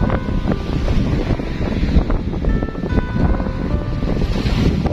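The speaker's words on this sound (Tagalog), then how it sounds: "meron tayong hangin" Steady wind buffeting and rushing over the microphone at a beach resort, loud and continuous, with a faint wash of surf and a few thin tonal whines in the background.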